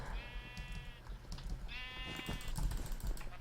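Sheep in Minecraft bleating twice, two wavering, buzzy bleats about a second long each, close and clear over faint background noise and clatter.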